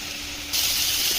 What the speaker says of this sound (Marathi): याच्यामध्येच आता आपण मटार घालून घेऊया आणि दोन्ही पण छान परतून घेऊया